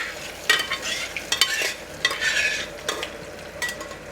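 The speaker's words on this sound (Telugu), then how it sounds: "పప్పు పోసేసుకుందాం ఇప్పుడు తాలింపులో" Dal is poured into a hot tempering and stirred in a pan, giving a soft sizzle under sharp bursts of spoon scraping and splashing that come in uneven strokes, with nobody speaking.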